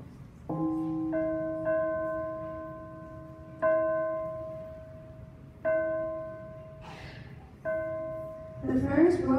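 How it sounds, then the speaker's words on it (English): A bell rings five slow, evenly spaced strokes at a school Remembrance Day assembly, each clear tone decaying before the next, with brief murmuring near the end. "We together as a Fairmount family will hear 100 bells ring today."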